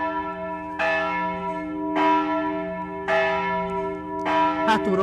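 Church bells ring outdoors in slow, loud, regular strikes with long humming decay, each stroke overlapping the last, recorded close by with no speech.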